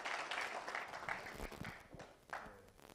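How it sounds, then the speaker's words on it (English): Audience applause at an awards segment of Nairobi Tech Week 2024, a continuous patter of clapping that gradually thins, faint and distant, with some voices mixed in. "Give him another round of applause."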